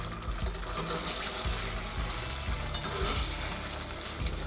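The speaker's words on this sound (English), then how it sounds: "Frying your concentrated tomato paste is really going to boost the flavors" Concentrated tomato paste fries in oil as the base of a tomato-based barbecue sauce, a dense, even hiss and sizzle that holds steady throughout without pauses.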